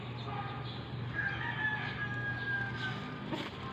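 Chicken kept in a rural yard crowing faintly in the background, a drawn-out call over a low steady hum, with soft clucking around it.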